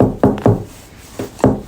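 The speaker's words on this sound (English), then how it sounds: "knocking." Knocking on walls or bars comes as several loud, close, dull raps in two uneven clusters with a short pause between them.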